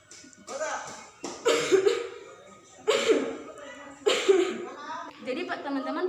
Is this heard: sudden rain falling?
no